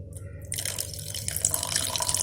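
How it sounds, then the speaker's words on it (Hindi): Water poured into a pan of frying dhaba-style dal mash, a steady splashing, pouring rush that starts after a brief pause and continues close and fairly loud. "यहाँ पर मैं इसके अंदर बस थोड़ा सा पानी ऐड करूँगी"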